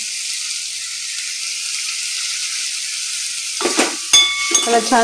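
Chopped capsicum with besan sizzling steadily in a pan for a dry bhaji, a loud continuous hiss, joined near the end by stirring clatter and a brief spoken remark.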